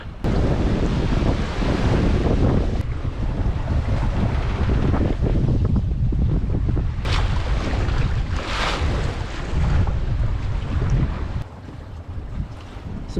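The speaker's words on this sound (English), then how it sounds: "Some big waves out here." Big ocean waves surge and crash around a small sailboat under way with a lone sailor, a continuous heavy roar of water with strong wind buffeting, loud and close, with no talking.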